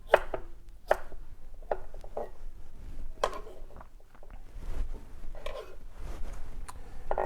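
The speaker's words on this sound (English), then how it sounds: "cut the cucumber into slices. And then each slice you can cut into sticks. And then the sticks into cubes." A knife chops cucumber into cubes on a board, crisp close taps landing in an irregular run of separate strikes with short pauses between bursts.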